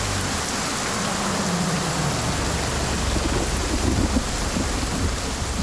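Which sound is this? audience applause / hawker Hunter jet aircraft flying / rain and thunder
rain and thunder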